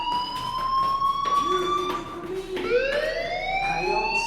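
A fire alarm sounds in a video game as steady high electronic tones, shifting pitch and rising partway through, loud and continuous against a murky background.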